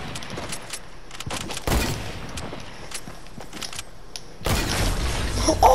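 Gunfire in the video game Fortnite, a series of sharp shots and bursts at uneven intervals, with a couple of louder, heavier blasts standing out over the background game noise.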